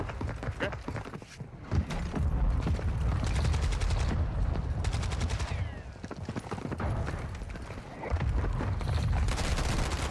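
Gunfire in the video game Call of Duty DMZ: loud, dense bursts of automatic shots in rapid rhythm, with brief pauses between volleys and no talk over it.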